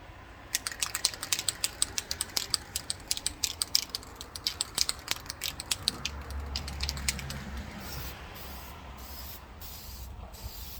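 Bursts of black paint hissing from a cheap spray can onto a panel, rapid repeated short sprays with clicks of the nozzle, followed by a few slower separate puffs, close and clear with no talking.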